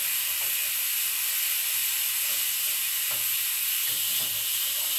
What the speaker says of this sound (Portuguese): Agora eu tô refogando aqui o alho pro feijão.